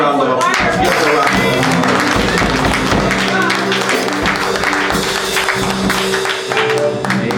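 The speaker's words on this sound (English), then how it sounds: "Give her a round of applause." An audience at a church history presentation claps. The applause is continuous and dense, mixed with music and crowd noise throughout.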